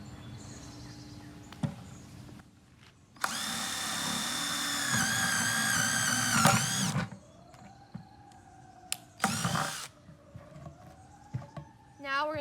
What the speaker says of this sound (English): You're going to take your drill and you're going to drill 1 hole in the center and 4 holes around the perimeter